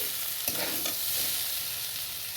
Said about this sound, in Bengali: ভাজাটা ভালো করে নেড়ে চেড়ে নিলাম।